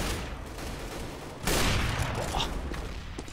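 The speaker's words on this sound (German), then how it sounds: "Sehr schöner Schuss von Crystal." A quiet stretch of rumble breaks into a loud burst of rapid gunfire in Counter-Strike on the map de_dust2 that keeps rattling to the end.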